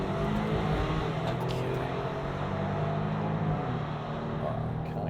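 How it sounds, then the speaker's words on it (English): A 2023 Jeep Grand Cherokee accelerating under throttle on the road: a loud, continuous engine drone with road and wind noise, holding steady as it pulls. "It takes off all right with a bit of throttle load."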